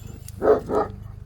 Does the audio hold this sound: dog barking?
yes